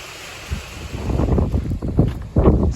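Small snow pellets, like hail, fall in a storm while gusty wind buffets close by, making uneven rushing bursts that swell and fade over a steady low roar.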